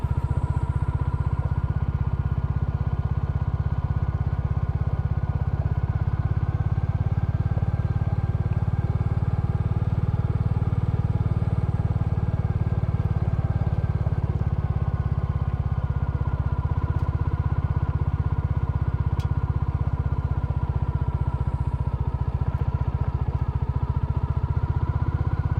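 Royal Enfield Classic motorcycle ridden off-road in second gear, a steady low chugging engine drone heard from on the bike, with a little clatter over bumps throughout and no talking.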